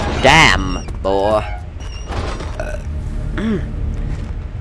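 Loud, drawn-out burps from TJ, a character in the Amnesia horror custom story Madhouse II: The Origin of Malady, two long croaking belches up front, then a shorter one later, with talk and game noise around them.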